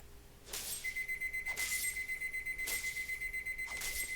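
A timer alarm rings in the video game Animallica: a continuous electronic tone with a rapid pulsing beat, plus bright chime-like bursts repeating about once a second, steady and fairly loud with no talking.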